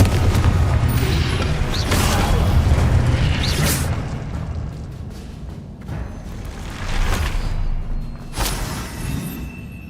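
A Confringo explosion spell goes off in a Harry Potter video game, with heavy booming bursts and crackling blasts repeating loudly over about ten seconds.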